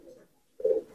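A pigeon coos close by, with a soft low murmur followed after a short pause by a louder, rounded coo.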